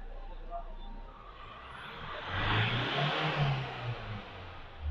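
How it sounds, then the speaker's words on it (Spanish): A Hyundai Santa Fe 2.5L diesel engine runs steadily, then revs up sharply around the middle with a rising mid-pitched roar before easing back down, heard close up. "ahora procedemos a hacer una aceleración brusca y apagar el motor"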